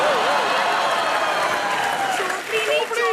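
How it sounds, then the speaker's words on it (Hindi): An audience applauds for Parineeti Chopra on a TV comedy show, a loud, dense, steady clapping crowd with cheering that runs throughout, with a voice also present. "जोरदार तालियां परिणीति चोपड़ी के लिए"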